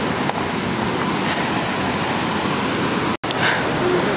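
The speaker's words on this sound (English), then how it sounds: "There's the waterfall." A waterfall at an old, overgrown mill roars as a loud, dense, continuous rush of falling water close by, with a brief cut near the end and faint rustles.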